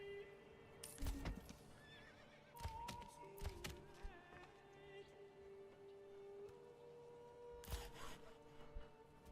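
A horse in the Manor Lords medieval village-building game neighs in several loud whinnies with clip-clop hooves between them, over a quiet steady game hum and no speech.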